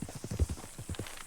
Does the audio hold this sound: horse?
yes